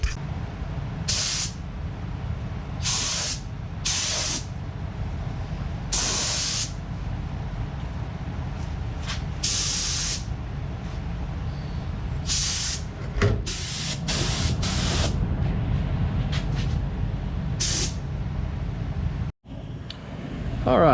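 Paint spray gun applying gold paint to the rocker panels of a Dodge Ramcharger, repeated short hissing bursts of varying length, close and loud over a steady low compressor hum.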